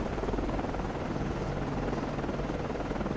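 A helicopter launching from an Arleigh Burke destroyer in the naval game Cold Waters, a steady rotor whir and engine drone at moderate level, alone.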